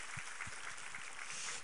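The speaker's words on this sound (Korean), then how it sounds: "우리 하나님께 감사와 영광의 박수 올려드리겠습니다" A church congregation at a Sunday worship service applauds in a soft, even wash of clapping that sounds fairly distant and subdued.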